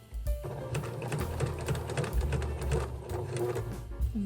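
A sewing machine stitches a zippered make-up pouch, a steady close whirring hum with rapid needle clatter running continuously, with a brief start at the beginning and no speech over it.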